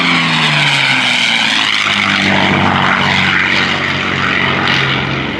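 Propeller-driven WWII fighter aircraft fly overhead in a missing man formation at a World War II commemorative weekend, a loud, steady engine roar with a slowly falling drone sustained throughout.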